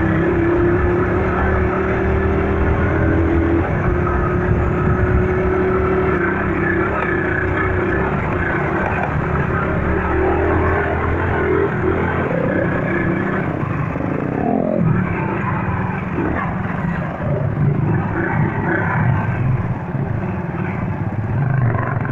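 Several motorcycle engines drone steadily nearby on a trail ride in Uruburetama, Brazil, a continuous loud rumble that rises and falls slightly, with no talking.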